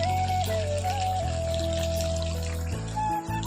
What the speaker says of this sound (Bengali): চিকেনটা কষানো হয়ে গেছে, তো এবারে জলটা দিয়ে দেবো।